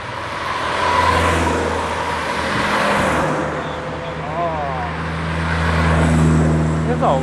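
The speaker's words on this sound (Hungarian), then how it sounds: "Ez autó." An old-timer car rolls by during a vintage car gathering, its engine swelling and fading as it passes nearby amid general road noise, with people talking over it.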